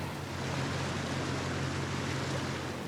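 A safari vehicle pushes through a deep river crossing near hippos, its engine droning low and steady beneath a constant rush of churned water.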